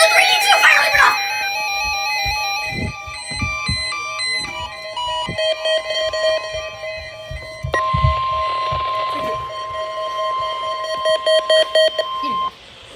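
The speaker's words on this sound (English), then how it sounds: "This is a weekly test of the NOAA radio warning alarm device and the emergency alert system." A NOAA weather radio sounds its weekly emergency alert system test: loud, steady electronic alarm tones and data bursts ringing on for several seconds, ending abruptly near the end.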